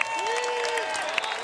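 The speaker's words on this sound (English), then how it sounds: "Round of applause for Mr." Crowd applause and cheering for the winner of a park skateboarding contest, Vans Park Series 2017 in Malmö, Sweden, a steady wash of clapping with a tonal whistle-like line running through it.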